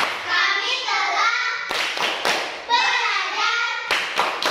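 Children in a classroom chant together during a clap routine, punctuated by two short bursts of sharp, sharp group hand clapping.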